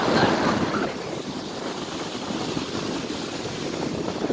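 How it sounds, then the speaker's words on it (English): Ocean waves breaking near a beach, a continuous wash of surf mixed with wind buffeting the microphone, fairly loud and steady throughout. "The waves are like real waves, like they're well bigger."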